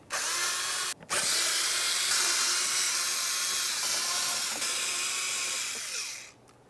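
Power drill with a T25 star bit backing out screws during radiator removal on a 2011–2018 Volkswagen Jetta: a loud, close, high whirring run that stops briefly near the start, resumes, then winds down.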